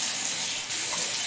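Warm water runs steadily from a tap into a bathroom sink, a close, continuous splashing stream with a brief dip midway and no talk.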